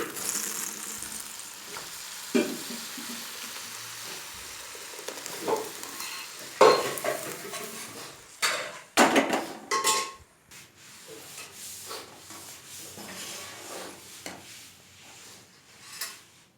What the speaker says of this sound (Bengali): আমি পুরো ডালটাই দিয়ে দিচ্ছি ঢেলে।